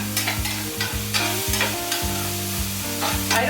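Onions sizzle in a pan for taco roll-ups, a steady frying hiss with scattered scrapes while a low steady hum runs underneath; no speech.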